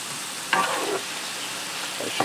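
Vegetables and mushrooms being stirred in a skillet while cooking beef stroganoff: a few short scraping strokes over a soft, steady sizzle, fairly close.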